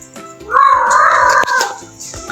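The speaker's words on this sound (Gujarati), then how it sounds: "હા, બિલાડી બોલે હાલે આમાં તો." A cat meows once inside an old house, a single drawn-out, fairly loud cry lasting over a second, set against quiet background noise.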